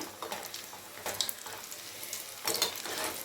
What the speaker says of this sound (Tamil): இதே போல் எல்லா பேட்சஸையும் பொரிச்சு எடுத்துகிட்டு வந்துடுவோம்.